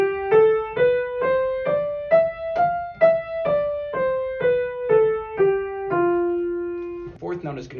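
A Lydian mode scale starting on F is played as a series of clear, evenly spaced pitched notes. They climb step by step and then descend, ending on a longer held tone before a brief voice speaks.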